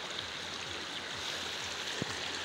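Shallow stream at Shahdara Point, Islamabad, while wading: a steady, close rush and babble of flowing water, even throughout, with one small splash near the end and no talking.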